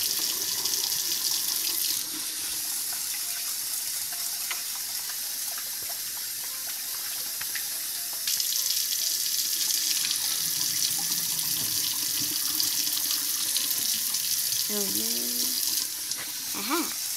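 Tap water runs steadily into a sink during rinsing, a constant close splashing rush that lasts throughout, with voices speaking quietly underneath now and then.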